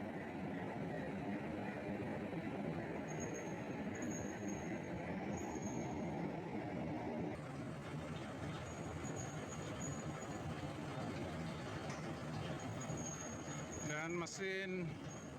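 A WZ 500 TY rail installation machine pushes along newly laid track for a high-speed line, producing a steady, dense mechanical rumble and grinding of rolling steel. A high squeal rises near the end, and voices talk over it.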